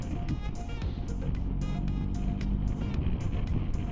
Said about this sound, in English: And another car.